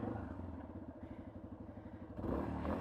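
A Yamaha XT250 motorcycle engine idles nearby with a quick, even thumping pulse, then swells slightly louder toward the end.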